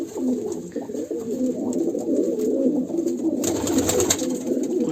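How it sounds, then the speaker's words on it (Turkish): Domestic pigeons cooing close by in a loft, a low rolling coo repeating over a bed of bird noise, with a rise of fluttering near the end and no speech. "Keyif kuşlardan uçuruyoruz görüyorsunuz"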